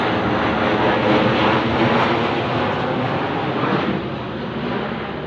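An airplane flies overhead, a loud broad engine roar that swells then eases slightly as it passes, with no talking.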